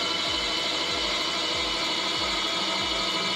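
An electric valve actuator for grain handling runs back toward its learned position, producing a steady close mechanical whir with a regular ratcheting click repeating roughly every half second under a constant motor hiss.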